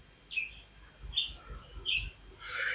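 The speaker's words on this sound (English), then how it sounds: "you guys are picking up on the birds tweeting, because I can see it on my microphone equalizer here" Birds tweeting among old mahogany trees in woods on Hawksbill Road, Sion Hill, St James, Barbados: four or five short, high chirps spaced apart, fairly faint, over a low background rumble.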